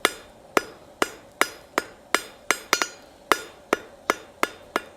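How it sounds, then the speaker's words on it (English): A hammer strikes a steel bar on an anvil while forging a square taper for a vine tail S hook, about thirteen sharp ringing blows in a steady rhythm, close and loud with no talk. "We start by forging that down square,"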